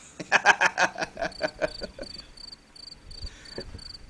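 Rapid cricket chirping sound effect, a quick burst of loud pulsing chirps that thins into a softer repeating high trill, with faint laughter underneath.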